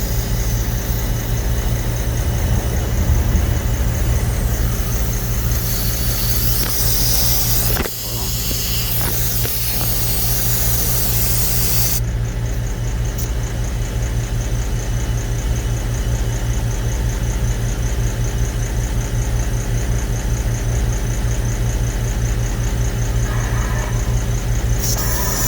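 Plugged car tire being inflated: a steady, continuous airy hiss with a constant mechanical drone runs the whole way, close and unbroken, with a brief dip partway through.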